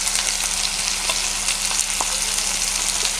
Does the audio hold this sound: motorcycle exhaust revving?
no